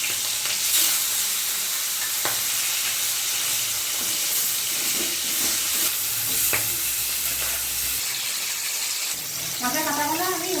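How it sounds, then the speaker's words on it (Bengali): Bhetki fish bones frying in hot mustard oil in a kadai give a continuous close crackling sizzle, with occasional clicks of a utensil and a short burst of voice near the end. "তেল গরম হয়ে গেছে, মাছগুলো আমি ভেজে নেব।"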